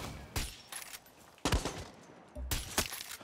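Three single rifle shots fire in a first-person shooter game, each a sharp loud crack followed by a short decaying tail, spaced roughly a second apart with no talking.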